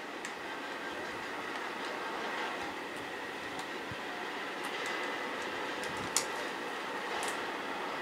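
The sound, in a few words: train moving in a video game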